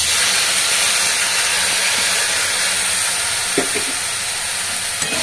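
Ginger paste frying in a pan for a vegetarian Hindu offering meal, giving a steady, fairly loud hiss and sizzle throughout, with a couple of brief clinks of stirring, and no talking.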